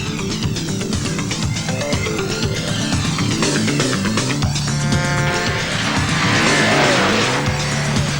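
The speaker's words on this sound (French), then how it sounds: "Mais le top, c'est vraiment l'accélération finale." The Test Track ride vehicle at Epcot accelerates hard, tires squealing and skidding over a steady roaring engine and rushing motion noise, loud and continuous with no speech.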